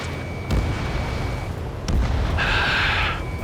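Anti-aircraft fire and explosions in the combat flight game Ace Combat 7, heavy booming blasts over a dense, roaring battle din, with a bright hissing burst toward the end and no speech.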